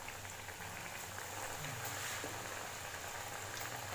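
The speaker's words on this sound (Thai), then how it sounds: "ทอดไปเรื่อยๆนะคะจนกว่ามันจะเป็นสีน้ำตาล" Potato strips deep-frying in hot oil, a continuous fine sizzling crackle, close and even in level, with no voices.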